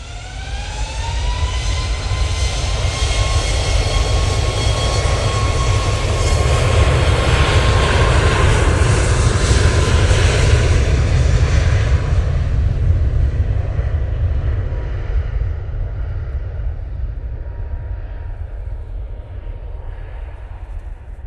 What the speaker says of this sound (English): That's 737 MAX 8 for TUI going to Aspagos.